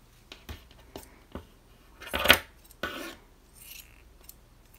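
Scissors snip the yarn ends of a chunky crochet blanket close up, with a handful of soft cuts and one louder crisp snip in the middle, and no talk over them.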